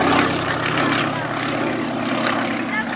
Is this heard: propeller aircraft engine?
yes